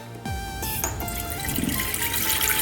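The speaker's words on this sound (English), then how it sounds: "fill it up with some water." Tap water runs into a saucepan in a kitchen, a steady close rushing and trickling stream after an opening clunk, with no talking.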